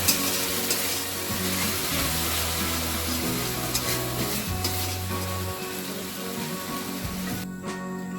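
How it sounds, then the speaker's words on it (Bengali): Ginger-garlic paste frying in a pan for egg tikka, a continuous dense sizzle with stirring scrapes throughout and a soft rain-like crackle, no talking. "আমি এবারে এর মধ্যে দিয়ে দেবো আদা আর রসুনের পেস্টটা, দিয়ে এটা কষাবো যতক্ষণ না এর কাঁচা গন্ধটা চলে যায়।"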